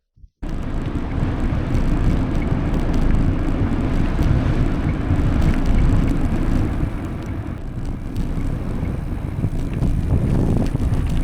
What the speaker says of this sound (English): Wind, eh? Here at the top of Nose Hill